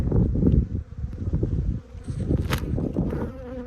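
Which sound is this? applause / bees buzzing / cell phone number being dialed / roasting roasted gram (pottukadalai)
bees buzzing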